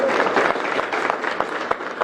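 Audience clapping in a hall during a press meet: a steady, moderately loud patter of many hands with a few sharper individual claps standing out.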